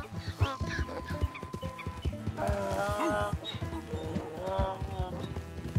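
Hooves of a donkey-zebra mount clip-clop in a steady trot in Red Dead Redemption 2, close and rhythmic, with a few animal calls and some game ambience.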